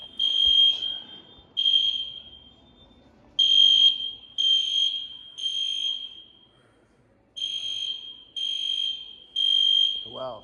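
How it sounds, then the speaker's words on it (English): A fire alarm blares in repeated piercing electronic tones, in bursts with short gaps, with faint voices briefly in the background. "The fire alarms are annoying."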